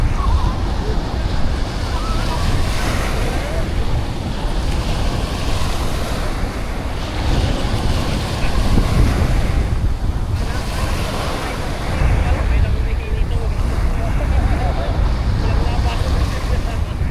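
Sea waves wash steadily at a cold-water beach during a holiday, a loud, constant roar of surf with heavy wind buffeting the microphone and surges swelling every few seconds across the whole stretch.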